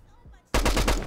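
Sudden loud burst of rapid automatic gunfire in Fallout 4, rattling in quick succession for about half a second after a quieter lead-in.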